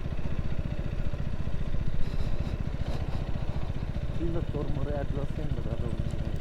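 A KTM 250 ADV motorcycle on the move throbs with a steady, rapid single-cylinder pulse under wind noise, as a rider talks throughout.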